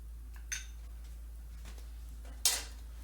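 A utensil clinks twice against a bowl while white paint is stirred into Scumble glaze, two sharp, close knocks separated by quiet, soft scraping over a steady low hum.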